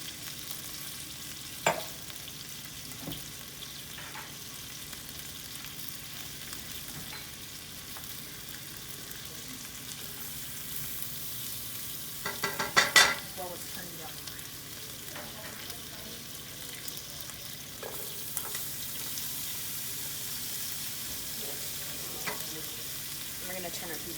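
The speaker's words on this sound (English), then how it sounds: "We are going to add a little bit more oil. To the pan, along with our garlic and onions" Garlic, onions and mushrooms fry in oil in a pan with a steady, fairly quiet sizzle, occasional clicks and a brief burst of stirring and scraping midway.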